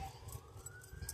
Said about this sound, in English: We've already been hearing quite a bit of sirens today.